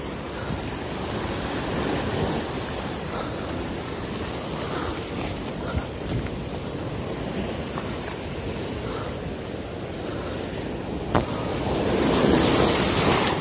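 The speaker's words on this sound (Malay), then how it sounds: "Din, lihat ombak, Din ah." Ocean waves rolling onto a rocky Aceh shore during reef fishing, a continuous broadband wash of surf with wind noise, building louder toward the end.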